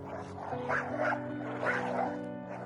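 A dog fights an unseen creature in the bush, giving off growls, yelps and whimpering barks over a steady rumbling background, with no clear gaps between outbursts.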